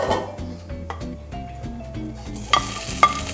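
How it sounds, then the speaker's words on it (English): Food sizzles in an air fryer with a soft crackling hiss that grows louder toward the end, underneath a steady thumping music beat. "And you can already hear the sizzle."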